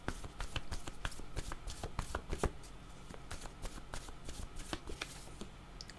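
A deck of playing cards shuffled over and over at close range, a quick run of crisp riffling snaps and soft slaps with no talking.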